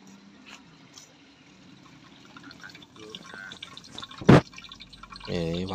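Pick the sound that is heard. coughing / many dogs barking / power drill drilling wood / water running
water running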